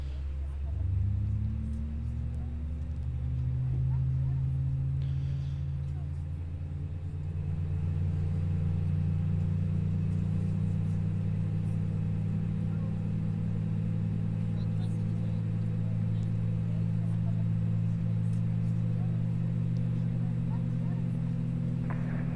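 Airbus A321neo engines in a flight simulator spool up to a steady, low droning hum with a rising whine, continuous throughout, while a person talks over it.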